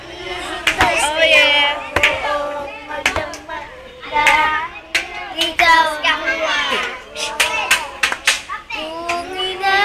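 Hands clap in rhythm along with a lively Filipino love song, sharp regular claps punching through the loud singing and music, with voices of children and a crowd also present.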